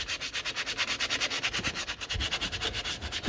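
A coarse abrasive is rubbed briskly back and forth on a rear brake wheel cylinder part of a Peugeot 207, producing a rapid, even, close rasping rhythm with no speech.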